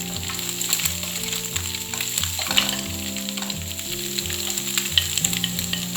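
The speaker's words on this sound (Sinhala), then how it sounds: "කැරට් ටික තප්පර 30ක් විතර හොඳට සෝඩ කරගන්න" Carrots and green chillies sauté in oil for Sri Lankan chicken fried rice, a steady close sizzle with crackling pops and the occasional scrape of stirring. No voices, with background music underneath.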